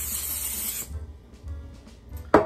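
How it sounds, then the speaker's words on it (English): Cooking oil sprays from a can over gluten-free bagel dough in a short hiss, followed by quieter handling noises and a brief sharp rustle near the end. "So I'm gonna spray a little bit over the top."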